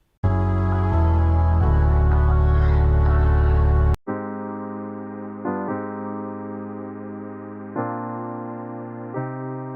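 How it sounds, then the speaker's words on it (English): Sustained analog-style synth chords ring out, a thick, loud chord first, then a sudden switch to softer held chords changing every couple of seconds. "I'll start with some analog sounding chords"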